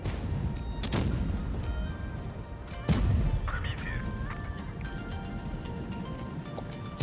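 Cannon shots in World of Tanks Blitz: two heavy booming reports, one early and a louder one near the middle, over a steady rumble of engines and battle noise.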